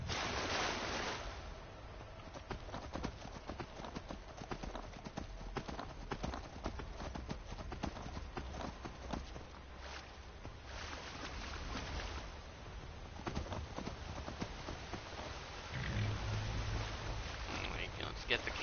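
A horse's hooves clip-clop at a steady trotting rhythm in the Skyrim video game, faint and continuous across the stretch, with quiet ambient wash underneath.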